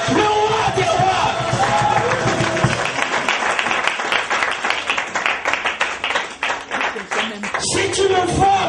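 A church congregation claps rapidly and cheers with shouts, a dense crowd of applause and voices filling the room, steady and loud with rhythmic clapping throughout.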